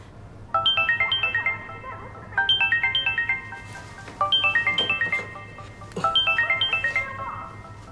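A mobile phone ringtone plays a bright repeating electronic melody in four evenly spaced bursts while an outgoing call waits to connect, clear and fairly close with no talking over it.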